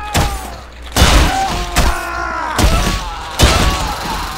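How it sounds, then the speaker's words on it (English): Team Fortress 2 Engineer weapon landing a guaranteed critical hit with a mechanical, robotic impact: a series of about five heavy clanking thuds, each ringing with metallic tonal overtones, spaced roughly evenly and loud up close. "So that third one is a guaranteed critical, and it makes a really cool, like, mechanical robot sound"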